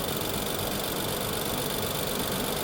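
Steady, close Infiniti QX60 engine idling with a rough, uneven rumble from a deactivated cylinder and misfire, constant mechanical noise throughout.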